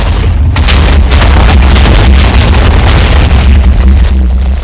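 A loud, sustained Minecraft explosion rumbles with heavy low-end booms and crackling bursts, filling the whole stretch without any talking.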